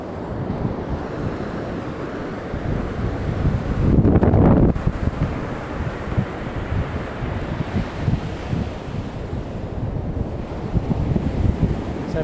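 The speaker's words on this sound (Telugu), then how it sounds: "ఇది అలలు వస్తున్నాయి" Ocean waves wash up on Ramapuram Beach with a steady roar of surf, mixed with gusty wind buffeting the microphone and a louder rush partway through.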